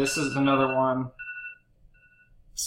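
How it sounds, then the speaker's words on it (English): A person speaks, then a phone alarm goes off with a few short, thin tones, followed by silence and a brief sound at the end. "Sorry, that was my alarm."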